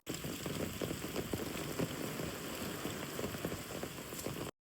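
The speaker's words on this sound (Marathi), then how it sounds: "आत्ता पाऊस जाम झालाय" Heavy rain in a rural Konkan village, a dense, loud, continuous patter of drops drumming close by on nearby surfaces, with no talking, ending abruptly.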